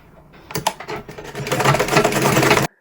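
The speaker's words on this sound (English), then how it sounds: "We are going to sew it together." Sewing machine stitching fabric for a padded cap: a few hesitant starts, then a rapid, continuous mechanical chatter of needle strokes that stops abruptly, close and fairly loud.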